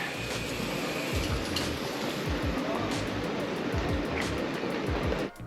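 Ocean surf at Saranda, Albania, heard from a hotel, a steady broad roar of breaking waves with low gusty thumps, constant and fairly loud before a brief dip at the end.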